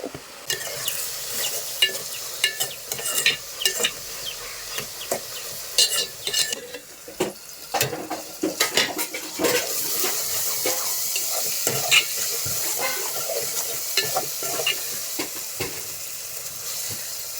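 Sliced onions frying with salt in a pan, close sizzling with frequent spoon scrapes and clinks against the metal, the stirring settling into a steadier hiss in the second half.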